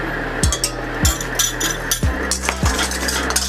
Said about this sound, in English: Mix well with a spoon, so I use a whisk.